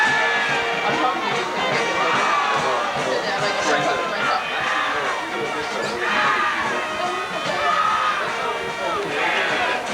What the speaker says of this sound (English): Good-sized crowd here from East Providence, just about equaling the homecoming crowd for North Kingstown.